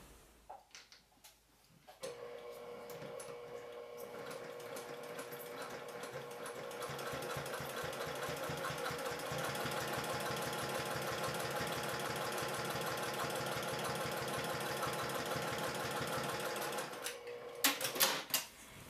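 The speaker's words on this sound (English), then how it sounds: "you'll top stitch along that seam that you just made with 1/4 inch seam allowance" Topstitching a seam at a quarter-inch allowance, a sewing machine starts after a moment of faint handling noise and runs in a steady, rapid mechanical clatter, close and moderately loud, ending with a few clunks.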